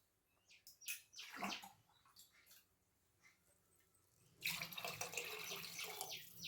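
Water poured from a tumbler onto rice for chicken biryani, a close splashing pour that comes in short bursts and then runs as a steady stream for the last two seconds, with faint clinks between pours.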